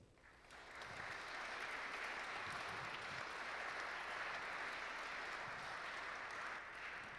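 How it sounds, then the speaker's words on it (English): Steady applause from an audience at a design pitch day in Venice, sounding soft and distant as a continuous wash of clapping with no talk over it. "I would like to do a big round of applause to the teams before we even start."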